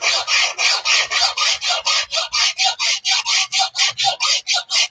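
A file is drawn along a straight razor blade in quick, even strokes, each a bright rasping scrape, about twenty in a steady rhythm, heard alone and close.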